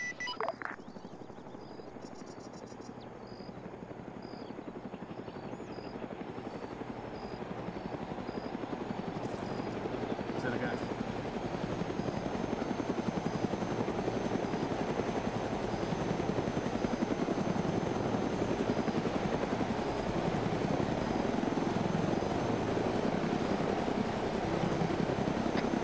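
Helicopter in the Arma 3 video game taking off, a steady rotor drone that builds louder over the first ten seconds and then holds a constant, dense whir with no talk.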